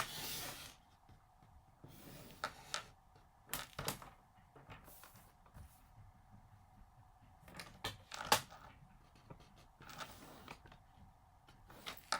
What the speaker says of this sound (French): Il gratte un petit peu à la porte.